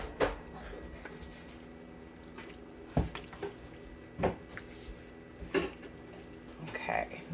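Cooked noodles are stirred into a homemade sauce in a pot, with wet squishing and occasional utensil knocks against the pan at irregular intervals, close and moderately quiet.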